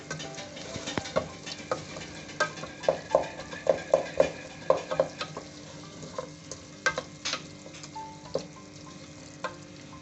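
Butter fries in a pan with spinach and potatoes, a low steady sizzle punctuated by a run of sharp ticking pops and spatters, fairly close and without talk.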